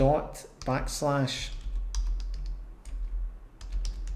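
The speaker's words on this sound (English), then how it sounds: "I'm sorry for my typing today, guys, my fingers are cold." Fingers tap a computer keyboard during a Python coding session, a quick run of crisp clicks that follows a few spoken words at the start.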